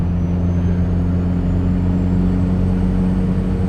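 Cab of a 1,025 HP single-turbo Cummins diesel truck at cruising speed, steady droning engine hum with a faint rising turbo whine over it.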